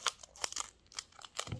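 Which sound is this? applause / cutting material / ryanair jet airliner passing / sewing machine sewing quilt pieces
cutting material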